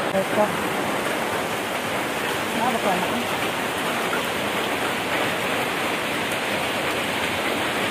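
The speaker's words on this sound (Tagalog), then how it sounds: "Grabe ka ulan. Ulan na ulan siya." Heavy rain pours in a dense, constant hiss, loud and unbroken for the whole stretch, with a few faint voices beneath it.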